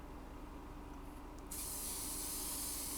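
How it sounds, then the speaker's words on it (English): A small aerosol can sprays glue dry accelerator. After a quiet start, one continuous hissing burst begins halfway through and holds steady to the end. "when you spray it from that little can, it's almost like a dusting"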